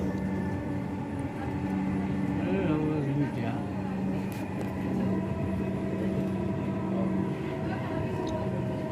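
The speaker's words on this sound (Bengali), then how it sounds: "মেট্রো রেল ছুটেই চলছে ছুটেই চলছে" Steady low rumble and rolling hum of a Dhaka metro rail train in motion, heard from inside the carriage, continuous and moderately loud throughout with faint background chatter.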